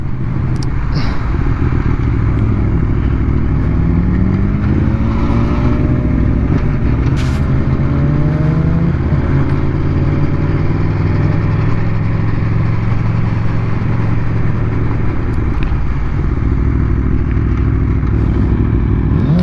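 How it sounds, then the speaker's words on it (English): A new Aprilia motorcycle is ridden along Isle of Man roads, its engine a loud, steady, close drone with rising and falling pitch as it accelerates, mixed with constant wind rush and no talking. "I'm on my new Aprilia"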